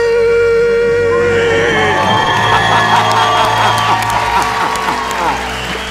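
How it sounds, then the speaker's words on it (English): A lobby crowd cheers, shouts and applauds loudly and continuously, with whoops rising over steady clapping. "And the crowd in the lobby goes wild."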